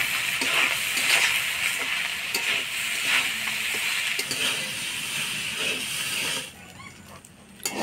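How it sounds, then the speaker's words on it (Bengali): Rice and dal stirred and fried in hot tempering oil in a pot, a steady close sizzle with scraping stirs throughout, dropping quieter near the end. "ফোড়নের তেলে চাল আর ডালটা আমি ভালো করে নাড়াচাড়া করে নিলাম।"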